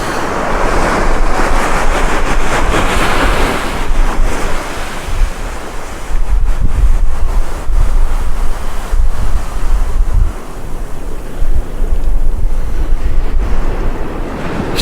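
Strong wind roars across an east coast beach at Tunstall during a sea fishing session, with steady surf and wind buffeting the microphone throughout, loud and continuous with no talk.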